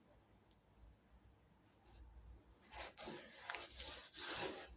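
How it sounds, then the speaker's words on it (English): Grinding down the door edge on a 1970 MGB GT to even up the door gap, heard as faint rubbing and rasping at first, then louder bursts of abrasive grinding in short passes. "so we grind that down now to that tape"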